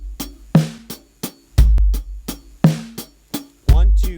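A 6/8 worship drum groove plays alone, with deep kick hits and snare backbeats landing in a steady swaying pattern, cymbal strokes ringing over the top, loud and close.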